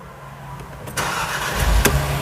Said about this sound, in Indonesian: jadi kita harus colok kunci lagi untuk start mesinnya